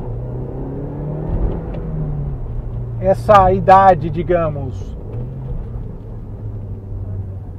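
A turbocharged Audi TT Quattro S-line with a six-speed gearbox and 225 hp drives along with a steady, low engine drone, while someone talks over it for a few seconds in the middle.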